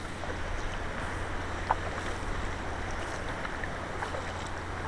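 Kayak out on the sea off a beach, drifting sideways as it is paddled, with a steady wash of water and wind noise and one brief knock partway through, no voices.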